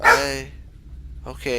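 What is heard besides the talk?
dog barking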